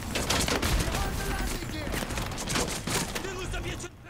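Close-range gunfire from an enemy in a shooter video game, a rapid burst of repeated shots over a busy, noisy background with a voice speaking faintly amid the firing.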